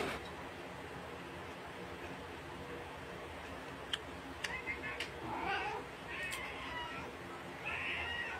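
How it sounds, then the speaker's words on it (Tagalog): Several cats meow and yowl in the latter half against a quiet room hum, with a few sharp ticks and clicks nearby. "Tigil kayo mga pusa kayo."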